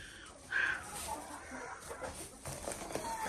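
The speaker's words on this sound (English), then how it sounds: "The chickens are doing good." Chickens just fed corn cluck softly in a dark farm setting on a cold night, a few faint calls and a brief louder squawk over a low, steady background.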